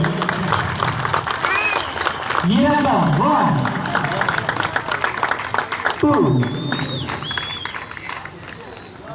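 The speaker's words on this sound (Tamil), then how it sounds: "பலத்த கரகோஷங்களை எழுப்பி உற்சாகம் ஊட்டும்படி அன்போடு கேட்டுக்கொள்கிறேன்" A crowd at a silambam world record attempt in Salem claps and cheers steadily while a man counts aloud over a loudspeaker above the noise.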